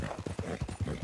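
Horse hooves in Red Dead Redemption 2 gallop in a quick, even clip-clop rhythm, loud and close, with no other sounds over them.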